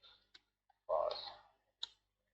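Mouse clicks on a computer while working in an Excel spreadsheet, a few sharp isolated clicks with a brief breathy rustle between them, close and quiet.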